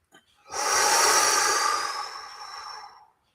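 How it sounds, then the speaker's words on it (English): A single deep, drawn-out breath taken close by during a breathing exercise: a soft airy rush that swells quickly, holds steady, then slowly fades over about three seconds, with no talking. "And then inhale, hold it."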